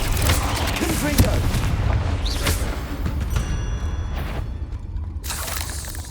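Repeated Confringo fire spell blasts in Hogwarts Legacy, booming explosions in quick succession with crackling bursts, loud and close, under and between a player's talk.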